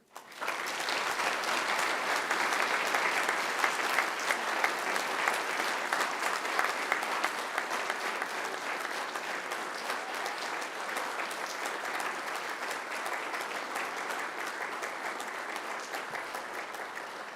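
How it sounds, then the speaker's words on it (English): Graduates at a Macquarie University graduation ceremony give a long, steady round of applause to their families and friends, dense and sustained from start to finish with no talking. "And now I invite you to give them a mighty round of applause"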